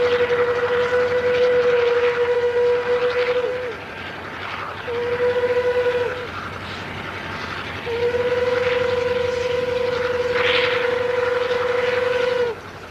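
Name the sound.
railway rotary snow plow clearing snow from the line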